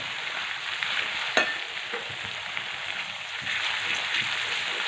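Green chillies frying in hot oil in a pan, a steady moderate sizzle with a sharp pop and scattered crackles, no voices.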